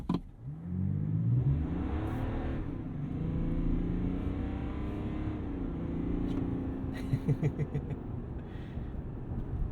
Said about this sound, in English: let's do a little bit of a launch here